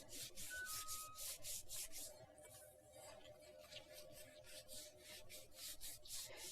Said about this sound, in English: And we're just going to really, really rub this in.